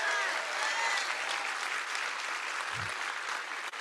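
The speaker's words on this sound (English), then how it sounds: "Round of applause." Sustained audience applause at a packed, standing-room-only town hall in Bakersfield, a dense steady wash of clapping lasting the whole stretch with no break.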